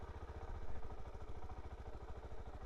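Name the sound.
DR-Z4S motorcycle crawling slowly with no throttle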